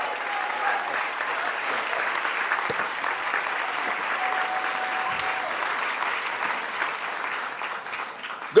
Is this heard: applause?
yes